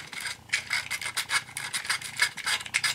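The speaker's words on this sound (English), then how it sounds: "I'm going to sand these leads" Sandpaper rasps across the electrical leads of a TOMY toy chicken game, a soft, quick back-and-forth scratching at close range with a steady rubbing rhythm.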